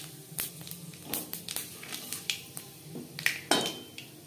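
Panch phoron, a Bengali five-spice mix, crackling in hot oil in a wok that was just used to fry fish; sharp scattered pops and snaps, close and fairly quiet, over a low background hiss.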